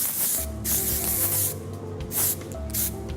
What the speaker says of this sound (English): I like to spritz each layer with our heavy hold control force.